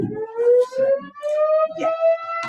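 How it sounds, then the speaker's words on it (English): A siren sounds outside during a board meeting, its steady harmonic wail sliding slowly upward in pitch and holding loud and continuous throughout, with faint muffled room noise beneath. "You guys can probably hear the siren."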